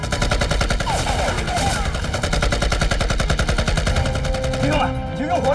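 Rapid machine-gun fire in a war drama battle, a dense unbroken stream of loud, evenly spaced shots with scattered shouting voices mixed under the bursts.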